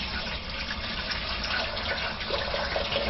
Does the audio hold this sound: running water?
yes